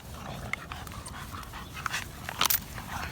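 A white dog pants softly in short irregular breaths, with a few faint sniffs and snorts and no voices.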